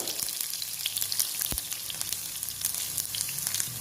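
Ten cut garlic cloves frying in hot oil with bay leaf and kalpasi spices for masala poori gravy, a steady crackling sizzle with a faint stir near the middle.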